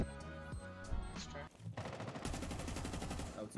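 Rapid video game gunfire in a police shooter, a dense, steady stream of shots running through most of the clip, loud and close, over game sound and faint voices.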